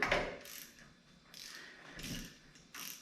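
A ratchet on an extension cranks a bolt down on a 1970 Ford F250 dually, giving a few quick bursts of clicking pawl noise between short pauses, close and fairly quiet.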